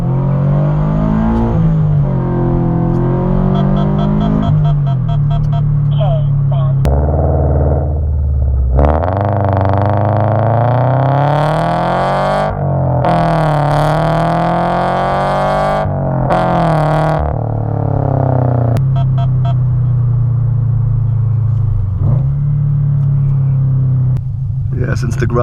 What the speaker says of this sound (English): we'll get another acceleration right here. 0 to about 50 miles per hour